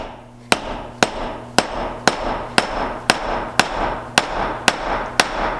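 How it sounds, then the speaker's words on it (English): Steady, evenly spaced hammer blows drive a wheel bearing race into an AE86 hub about twice a second, each a sharp ringing metal clank, around ten hits in a row. "Grab steady and just start driving it in."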